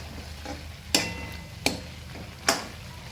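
Boiled drumstick pods sautéing in spiced masala give a low, steady sizzle, broken by three sharp, separate clicks of a utensil against the pan, spaced under a second apart.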